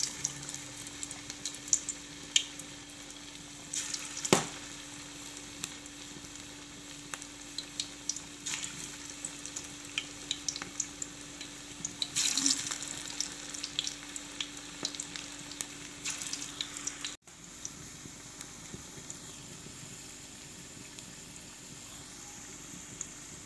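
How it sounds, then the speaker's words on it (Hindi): Potato and spinach pakoras fry in hot oil with a steady crackling sizzle, broken by occasional sharper pops and clatters of pieces being added or stirred. "ऑयल को गरम करें, अब एक एक करे पकौड़े डालते जाए।"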